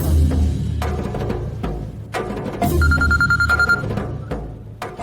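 A telephone rings while a call is being placed to a relative in a Kannada TV serial scene. A short electronic ring tone repeats a few times over a music bed, clear and close.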